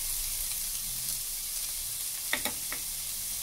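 Onion and garlic sizzle steadily in hot frying oil for a vegetable sofrito, a close, even hiss with a few sharp pops or stirring clicks near the end.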